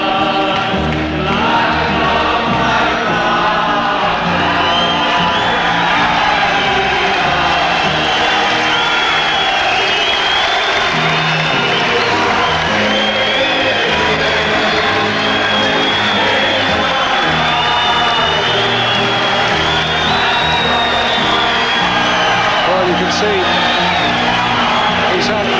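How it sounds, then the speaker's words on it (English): A boxing crowd cheers for Robbie Regan in a loud, sustained roar with whoops and shouts over 25 seconds, building into a dense wall of voices throughout. "the cheer you will hear for Robbie Regan"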